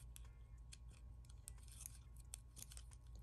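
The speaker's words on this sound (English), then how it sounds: "I'm going to cut around these real quick." Scissors snipping around paper key tags, a quiet run of short crisp cuts in a steady irregular rhythm, close and faint over a low background hum, with no talk.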